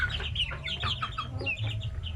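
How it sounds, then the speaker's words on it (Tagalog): Native chickens clucking in a backyard coop, several birds close by making rapid overlapping clucks and short calls over a low rumbling background. "halos dito ako magtambay sa aking manukan"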